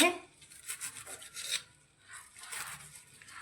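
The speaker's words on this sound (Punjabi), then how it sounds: "ਮਿੰਟੋ ਮਿੰਟ ਸਾਗ ਕੱਟਿਆ ਜਾਊਗਾ" Saag (mustard greens) being cut quickly by hand, close crisp rasping and rubbing strokes in short bursts with a brief pause between.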